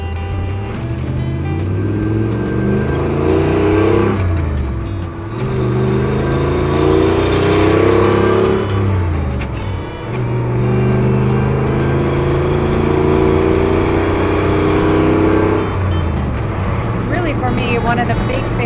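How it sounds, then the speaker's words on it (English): A 1966 Jeep Super Wagoneer fitted with an SRT8 engine revs hard in repeated surges, the deep engine note rising and falling through several pulls, loud and close, with a voice speaking over parts of it. "underneath the hood is an SRT8 with a lot of get up and go power"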